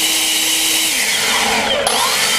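An EGO LB5800 battery-powered leaf blower runs loud and close, a steady high-pitched electric whine and rushing air whose pitch shifts partway through, with no talking.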